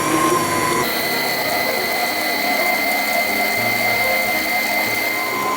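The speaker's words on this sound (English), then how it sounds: "we're going to turn the mixer on a medium speed and let that go for another 3 minutes" An electric mixer beats buttercream frosting at medium speed, giving a steady, loud whirring hum with a constant high whine that shifts slightly in pitch early on, close and continuous.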